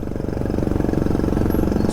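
A motorcycle, a Yamaha NMAX scooter with its muffler removed, runs on a national road with a loud, rough, rapid engine putter that stays close and steady throughout.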